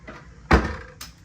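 A small fridge door in a cruise ship cabin opens with a sharp thump and seal release, then a lighter knock follows a half second later, close and fairly loud.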